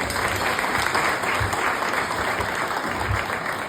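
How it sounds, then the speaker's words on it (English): A room of diners at the Plough gives a round of applause to the restaurant staff at a Thurrock Re-Engage anniversary celebration, brisk continuous clapping with a few louder hand claps standing out. "So a round of applause, maybe, for them."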